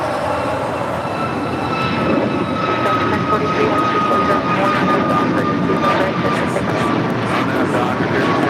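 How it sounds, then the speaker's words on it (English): A JetBlue Airways Airbus A321 jet arriving from Boston at LAX produces a loud, sustained engine roar with whining tones, continuous over the whole stretch alongside background voices. "That is JetBlue Airways Flight 387 coming in from Boston in this A321."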